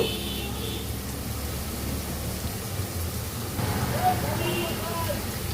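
Native chicken meat frying in a pan while being stirred, a dense, even sizzling hiss that holds steady and swells slightly near the end, close and fairly loud.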